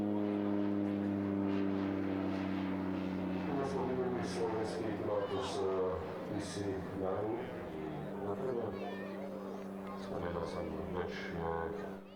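A short takeoff and landing propeller plane used by parachutist schools descends quickly at the Varaždin airshow in Croatia, its engine drone steady and fairly loud throughout beneath a narrator's voice.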